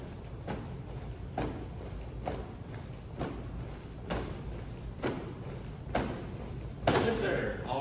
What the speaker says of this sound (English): let's go ahead and do 10 jumping jacks.